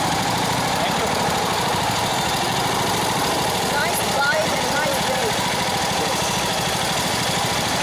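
A motorbike engine idles steadily and loudly throughout, a constant low rumble beneath lively chatter and shouted compliments from people nearby.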